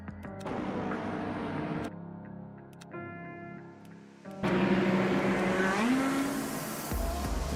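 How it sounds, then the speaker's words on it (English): LMP2 race cars in the Le Mans Ultimate racing game at the Algarve circuit, their engines droning steadily with gear changes and a louder, closer surge of revving partway through, heard alone without talking. "let's go and take a look at the end there with the LMP2s, because yeah, I think as Dor said, they were really jostling and fighting for position"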